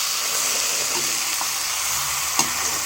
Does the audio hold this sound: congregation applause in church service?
no